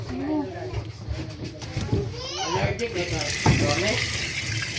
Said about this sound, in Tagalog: Lakas ang tubig na dito.